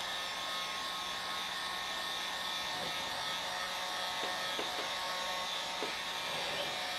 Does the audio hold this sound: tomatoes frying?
no